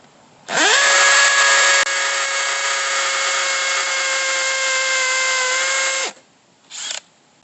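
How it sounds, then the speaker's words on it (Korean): A Stanley FATMAX V20 cordless hammer drill (SBD721) on its second speed setting bores a 6 mm hole for a wall plug. A loud, steady motor whine runs for about five seconds and stops, followed by a short second burst. "자 해머 드릴 모두 2단에 놓고 작업을 하는 것입니다."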